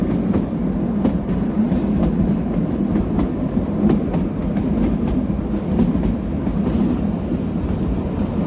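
Train on the Shimla to Chandigarh route, heard from inside the carriage as a loud, continuous rumble with rhythmic clickety-clack of the wheels throughout.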